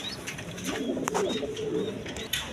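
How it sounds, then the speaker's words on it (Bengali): A pair of yellow garra pigeons cooing softly in a loft, a low murmuring coo running steadily under faint background noise, close by. "এখানে এক পেয়ার গররা কবুতর আছে হলুদ কালারের মধ্যে"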